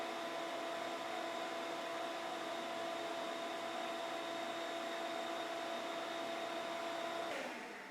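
A dust collector blowing air through a pipe with a 90-degree elbow, a steady loud whooshing roar with a fixed whine, continuous and close before cutting off near the end.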